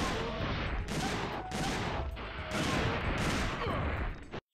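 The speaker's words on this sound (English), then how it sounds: "I'm shooting a shotgun" A shotgun in Dino Crisis 2 blasts in a rapid series of about five heavy booming shots, close and loud, each one washing into the next.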